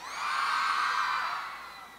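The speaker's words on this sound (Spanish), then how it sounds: "Grito de las mujeres." A crowd of women scream and shriek together at the Ultra 96.3 FM Gira Ultra 2008 live radio-station concert, one sustained high-pitched collective cry that swells quickly, holds, then gradually fades.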